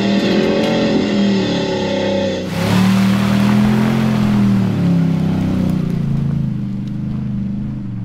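A 4WD on a wet, slippery Cape York track revs hard to clear mud-clogged tyres, a loud close engine drone that jumps sharply in pitch and roar partway, then holds a strained, wavering note.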